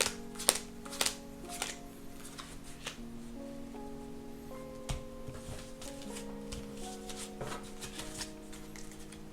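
Cards are dealt one after another with soft flicks and snaps, close up, over a faint steady hum, irregularly spaced.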